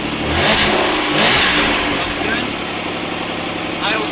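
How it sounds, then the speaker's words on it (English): A Mazda engine running on its factory ECM cranks and catches with two loud revving surges, then settles into a steady idle, close by and loud, with a voice audible partway through. "we're going to use the factory ECM to show how the vehicle starts stock."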